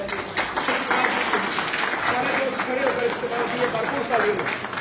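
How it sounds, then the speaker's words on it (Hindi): Audience applause at a Pakistani political party organising event in Andalusia, Spain, a dense steady patter of many hands throughout, with voices and crowd chatter mixed in underneath. "इनके लिए भरपूर तालियां मिस्टर मोहम्मद वसीम साहब"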